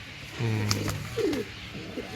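A pigeon kept by a pigeon-flying hobbyist coos close by, a low throaty rolling call followed by a shorter second coo, with brief rustling and no talk.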